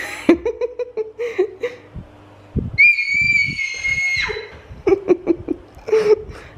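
A young girl screams loudly at home, shrieking in one long sustained high-pitched scream, framed by bursts of giggling and laughter and some talking before and after.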